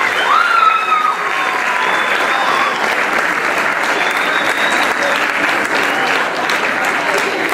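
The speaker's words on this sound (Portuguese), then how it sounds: "uma grande salva de palmas" An audience at a school awards night claps loudly and continuously, a dense wash of applause with a few faint cheers, lasting throughout.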